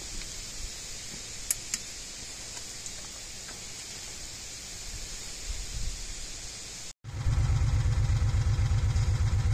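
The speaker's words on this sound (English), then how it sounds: "As you can hear, I've got the motor running" A Kawasaki Mule 4010 utility vehicle motor starts up partway through, then idles steadily with a loud, close, continuous low rumble after a brief gap of quiet hiss.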